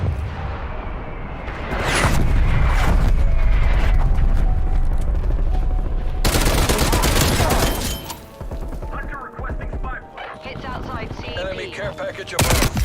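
Heavy gunfire and artillery blasts fill a Call of Duty Warzone match, loud sustained bursts with booming impacts and whooshes, a radio-style voice speaking over the combat as the barrage shifts and thins toward the end.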